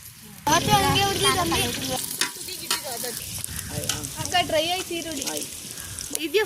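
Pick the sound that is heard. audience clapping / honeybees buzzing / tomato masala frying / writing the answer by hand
tomato masala frying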